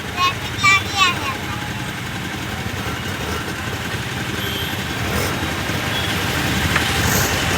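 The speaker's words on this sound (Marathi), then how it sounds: "आता ट्रॅफिक लागली आहे" Idling engines of cars and motorbikes sit in an Indian traffic jam, a steady low rumble holding throughout with a few brief horn-like tones early on and voices talking faintly over it.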